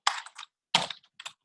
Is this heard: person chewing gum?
no